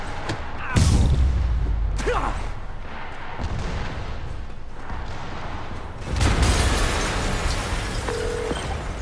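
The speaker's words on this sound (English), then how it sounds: "an explosion just... I saw it" A heavy booming explosion in the PS5 game Spider-Man Remastered erupts with a low rumble, followed by another deep burst a few seconds later amid continuous game noise.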